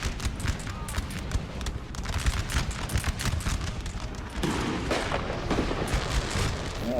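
Cannon artillery fire in the Napoleon Total War video game, with dense, continuous rumbling booms and crackling shots layered over a steady battlefield roar, loud and constant throughout.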